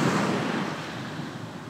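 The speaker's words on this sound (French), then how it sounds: "j'observe les surfeurs qui sont là-bas et j'écoute le bruit des vagues." Ocean waves near a surf spot, a broad rushing wash that swells at the start and then slowly recedes, heard alone and fairly loud.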